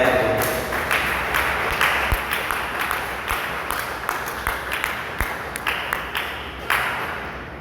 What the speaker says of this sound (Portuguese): dê uma salva de palmas para Jesus bem alegre